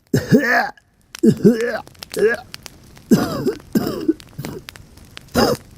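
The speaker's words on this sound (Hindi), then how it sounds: "वो अचानक खांसने लगा।" A man coughs and clears his throat in several harsh bursts, short gaps between them, close by and fairly loud.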